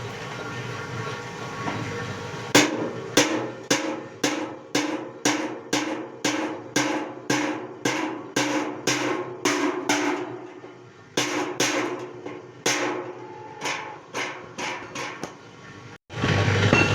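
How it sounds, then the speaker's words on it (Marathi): A flour grinding machine mills seeds into fine powder for homemade cattle feed, its loud steady mechanical rumble overlaid by a long series of sharp, regularly spaced knocks that briefly pause, then resume. "त्या दळून झालेल्या बियांचं पीठ या मशीनमधून छान प्रकारे बारीक होऊन निघतं."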